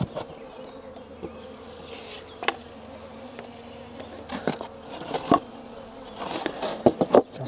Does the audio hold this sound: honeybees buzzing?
yes